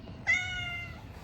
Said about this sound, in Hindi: क्या म्याऊं म्याऊं करने वाला।